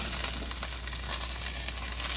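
Chicken cutlets sizzle in a frying pan, a continuous crackling hiss with small pops, steady and moderately close, with no talking.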